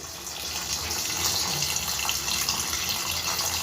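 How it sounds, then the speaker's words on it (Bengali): Spice-rinse water poured into a cooking pot of potatoes and paneer for dalna, a steady, close splashing gush that continues throughout without talking. "মশলা ধোয়া জলটা আমি আগে দিয়ে দিচ্ছি জল লাগবে আমি জল দেবো এর মধ্যে"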